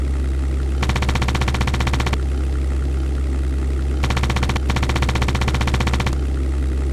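Machine gun fire from a World War II aircraft in the flight sim European Air War, two long rattling bursts over a steady, loud engine drone, with no talking.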